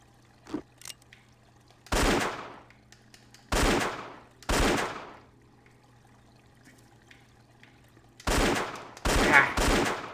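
Gunfire in Indiana Jones and the Infernal Machine comes in loud bursts of rapid shots, three spaced volleys followed by a longer double volley, over a faint steady hum.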